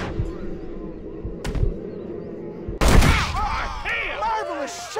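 A gunfight in the Western video game Red Dead Redemption: a sudden loud burst of gunfire cuts in partway through, with overlapping booming shots and ringing echoes after a stretch of quieter game ambience.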